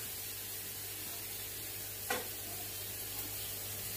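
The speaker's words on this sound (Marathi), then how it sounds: "म्हणजे तेलात परतून घेणार डाळीचं पीठ पण." Gram flour being sautéed in hot oil gives a steady, soft sizzle throughout, with one brief stir or scrape near the middle; there is no talking.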